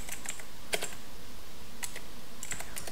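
Fingers type on a computer keyboard in short bursts of close, crisp key clicks separated by brief pauses, with no talking.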